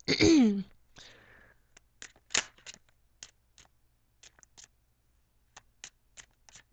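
Tarot cards are shuffled close up: a brisk riffle at the start followed by a string of sharp, separate snaps and flicks of cards being handled and laid down, with no talking.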